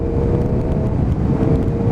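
A BMW F800ST motorcycle engine accelerates hard, a loud, close, steady drone with a sustained rising pitch and no voices over it.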